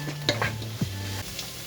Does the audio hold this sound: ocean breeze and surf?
no